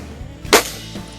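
A single sharp report from a Feinwerkbau 124D spring air rifle, left-handed model, fired once at close range, a short crack followed by a faint mechanical thump.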